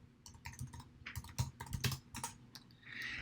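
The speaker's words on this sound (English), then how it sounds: "I'm going to type in adjustments." Typing on a computer keyboard while formatting an Excel worksheet, irregular bursts of close, crisp key clicks with no talking, ending in a steadier hiss.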